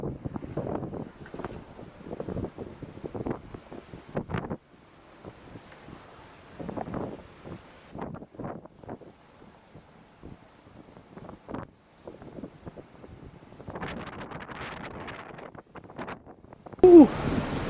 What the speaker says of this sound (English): we have 4-meter seas outside, and I'll try and pop outside and show you what it looks like